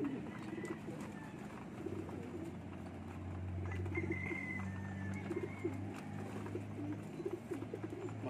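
Pigeons at a backyard pigeon loft give repeated low, soft cooing calls close by, with a faint murmur of outdoor background and occasional voices.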